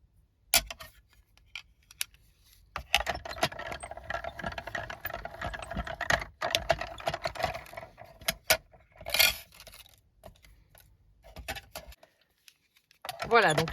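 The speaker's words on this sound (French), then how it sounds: "je suis en train de faire la dernière découpe" Scissors cut paper tabs for a scrapbook in short, crisp snips and rustles spaced between pauses, close and moderately quiet, with someone talking at times.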